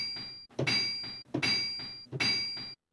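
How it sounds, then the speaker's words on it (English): A sampled knocking recorded in a workshop, played back as a steady series of hollow thunks, roughly four evenly spaced hits with ringing tails, close and clear with no talk over them. "Just him basically knocking."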